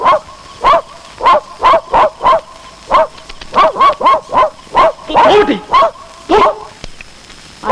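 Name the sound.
dog barking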